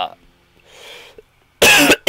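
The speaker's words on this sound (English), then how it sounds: "Sorry about the coughs." Several harsh, loud coughs from a person, two close bursts near the end after a quieter breathy throat sound, with little else around them.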